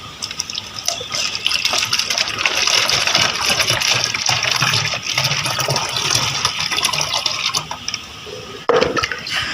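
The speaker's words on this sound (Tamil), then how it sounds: "இந்த மாதிரி ஒரு பாட்டில் எடுத்துக்கிட்டு அதில் வந்து தண்ணி ஊற்றிப்போம்." Water poured from a container into a plastic bottle to make a bottle rocket, a steady, loud gushing splash that runs the whole time and ends with a brief knock near the finish.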